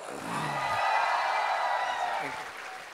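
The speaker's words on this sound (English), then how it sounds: "Let's welcome him with a big round of applause." An audience welcoming a speaker at a campus ministry gathering with applause and some cheering, a crowd roar that swells and then eases, with a voice briefly heard underneath.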